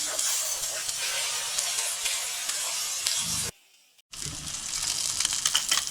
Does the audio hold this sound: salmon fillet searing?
yes